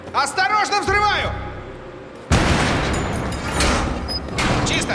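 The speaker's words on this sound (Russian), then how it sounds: "Осторожно, взрываю!" An explosion goes off in a Battlefield 3 military shooter mission. A loud boom breaks in suddenly and is followed by a sustained rumble after a stretch of voice and tonal sound.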